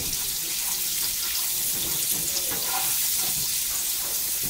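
Onions sweat in a hot pan for tinga poblana, giving a steady, close hiss of sizzling that runs unbroken throughout, with faint stirring clatter.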